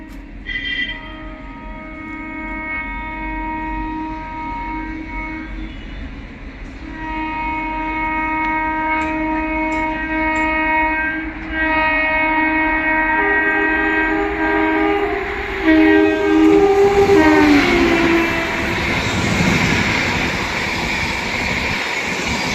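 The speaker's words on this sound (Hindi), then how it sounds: "और अब सामने से आ रही है फ्लैट 130 बिहार संपर्क क्रांति एक्सप्रेस।" The Bihar Sampark Kranti Express approaches at 130 km/h near Aligarh. A long, loud multi-tone horn sounds for many seconds, then the train rushes past close by with a building roar of rumbling wheels and rattling wagons, with no talk.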